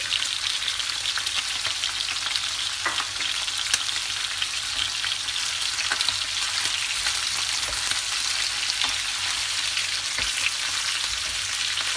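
Onion sizzling in a pan for stone-pot dizi, a steady bright frying hiss with scattered crackles and occasional stirring scrapes, close and continuous with no voices.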